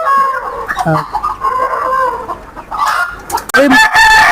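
Hill chickens cluck and squawk loudly and close by, with overlapping calls and a sharp burst near the end.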